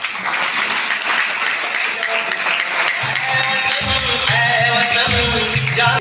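A seminar audience claps together in a steady, crowded burst, and partway through, loud music joins the clapping.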